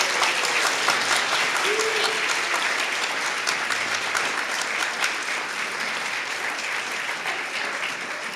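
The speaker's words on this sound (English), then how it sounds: "give them a round of applause" Sustained applause from a church congregation at a Sunday worship service, dense and steady clapping that carries on for several seconds at a fairly loud level, easing off slightly near the end.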